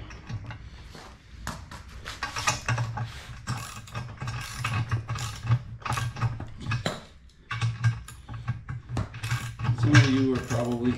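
Hand tightening of fasteners with a ratchet on an outdoor job in damp, cold weather: quick bursts of close, rhythmic clicking repeat in short strokes with brief pauses, and no one speaks.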